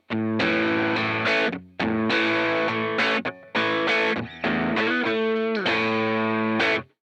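An electric guitar from Nacho Guitars played through distortion and effects, loud chugging chords in bursts separated by short stops, alone without talk.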